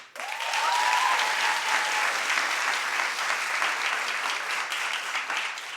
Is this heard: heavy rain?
no